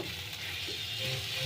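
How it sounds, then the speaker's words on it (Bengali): Potatoes and taro corms fry in oil with spices, giving a steady, close sizzle that holds level throughout with no talking. "দেখুন, আমার ভাজাটা কিন্তু খুব সুন্দর হয়েছে।"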